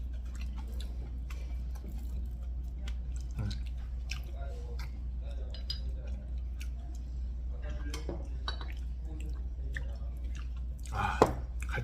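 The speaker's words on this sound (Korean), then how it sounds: "쌈장도 맛있네. 쌈장 찍어 먹는 게." Someone chews food dipped in ssamjang during a Korean raw sliced-fish restaurant meal. Close, moist mouth sounds continue throughout with occasional clinks of cutlery and dishes, over a low steady room hum and faint background voices.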